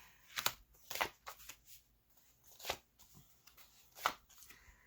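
Tarot deck being shuffled by hand at a reading: several crisp, rustling card riffles and slaps in irregular bursts, close and moderately loud, with quiet gaps between.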